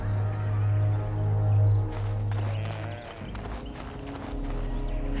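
Halla hooves clopping at a steady walk in Dragon Age: Origins, a fairly loud rhythmic clip-clop over a low droning music bed, with no talk.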